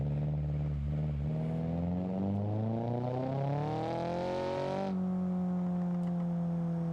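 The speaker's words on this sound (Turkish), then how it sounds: "Güzel patlatıyor. Popcorn'u da var ufaktan." Virtual Volkswagen Bora in BeamNG.drive revving hard, engine note climbing steadily and then cutting off sharply, leaving a steady drone with faint crackle; loud and close, no talking.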